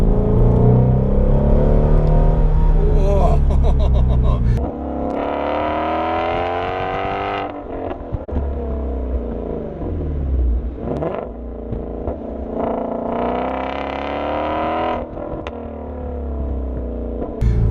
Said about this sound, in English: you get this absolutely incredible exhaust, which truly makes this V8 sound the part